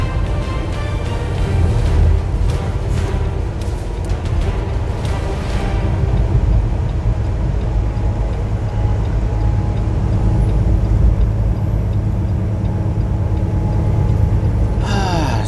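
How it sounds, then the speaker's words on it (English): Heard from inside a Peterbilt truck cab on the road, another truck passes with a continuous loud low roar of engine and road noise, a short burst of clatter early on and a hiss of air near the end. "Now I got another truck passing me, so let me slow a bit down here."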